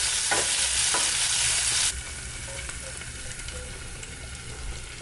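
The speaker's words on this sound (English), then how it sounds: "So I'm going to just put some olive oil and put some of this garlic and then put the beans in there and do some seasoning." Black beans frying with garlic in olive oil, a steady sizzle and hiss that is louder for the first two seconds and then settles into a softer, continuous crackle.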